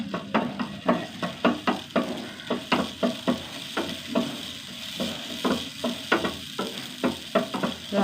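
A tablespoon of whole coriander seeds sizzles and crackles in a hot pan close by, with regular scraping stir strokes keeping a steady rhythm.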